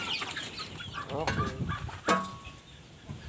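Hens clucking at feeding time on a backyard farm, fed coconut pulp and a little feed, with a few close, loud clucks and squawks and a brief spoken word.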